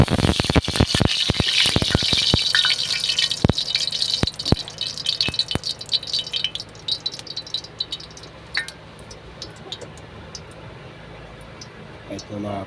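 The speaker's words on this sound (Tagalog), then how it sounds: "Nagpainit na ako ng kawali, nagigisa-gisa na ako. Lagyan ko ng mantika." Oil sputtering in a heated wok as food is sautéed, a burst of dense crackling and popping that gradually settles into a quieter, steady sizzle close by.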